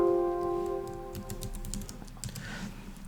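Quick keystrokes on a computer keyboard enter text into a medical dosing calculator. A short electronic tone comes first, then a soft, close run of clicks in a quiet room.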